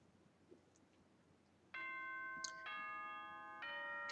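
The nighttime announcement chime from the Danganronpa video game, a sustained tonal bell chord that enters suddenly and shifts pitch in a few steps, clear and steady over faint background noise.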